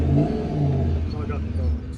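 A supercharged 1UZ V8 in a Hilux idles with a low, throbbing rumble and a light throttle blip lifting its note, while people talk close by over the engine.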